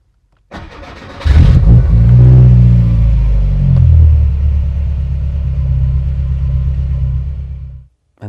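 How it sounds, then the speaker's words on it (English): A car engine cranks briefly and catches, then revs up loudly close by before settling into a steady rumbling idle and cutting off, with no voices. "this car will start straight away"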